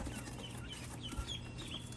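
Small chirping and peeping calls from baby quail and ducklings being placed together, repeated in a busy, overlapping cluster close by over low background rumble.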